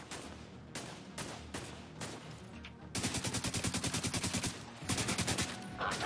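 Bursts of rapid automatic gunfire, loud and close, with a short pause between volleys over a busy game soundscape in The Division 2.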